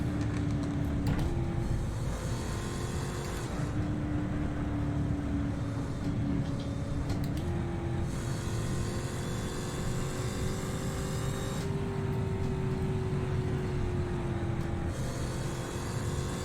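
Muscle cars in the Assetto Corsa racing game drone and rev through traffic, a steady loud engine note rising within each gear and dropping at several shifts, with no talking.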